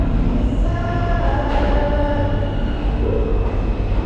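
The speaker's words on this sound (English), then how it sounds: "I think the train is just about to come show up." A subway train rolls into a station in Jackson Heights with a steady, loud low rumble and faint whining tones from the motors and wheels, continuing without pause.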